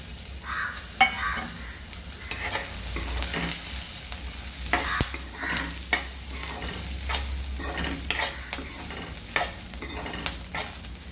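Whole spices (sesame, fennel, poppy seeds, cumin, cinnamon, cloves, pepper, cardamom and mace) sizzle steadily in a pan for chole, with a spoon scraping and tapping as they are stirred, close and without speech.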